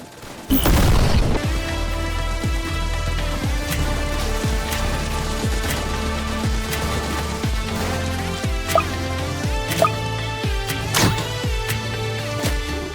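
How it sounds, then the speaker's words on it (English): Traps in a tower defense video game fire off repeatedly, a dense string of sharp booms and clacks over a constant droning game background, with one louder blast near the start. "I'm starting to hear more of your traps go off"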